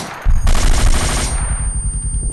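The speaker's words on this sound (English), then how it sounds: "As I will demonstrate here with this medium machine gun" Sustained burst of medium machine gun fire in a Half-Life 2 mod, a loud rapid rattle of shots that starts abruptly and runs continuously to the end, with no voices.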